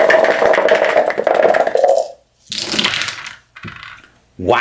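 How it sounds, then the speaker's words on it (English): Three black dice rattling in a cup for a Cthulhu: Death May Die board game, a loud dense clatter for about two seconds, then two shorter bursts of rattling and tumbling separated by brief silences. "Got the 3 black dice in the cup already."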